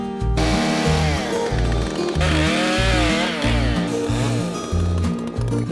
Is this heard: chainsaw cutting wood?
yes